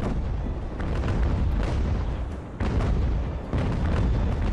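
Repeated heavy cannon booms from sailing warships in the Ultimate Admiral: Age of Sail naval battle game, a dense rolling barrage of loud low blasts with brief dips between volleys and no voices.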